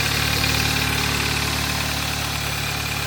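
An Audi S1 engine idles steadily and close by, a smooth continuous hum with a faint rhythmic pulse and no talk over it.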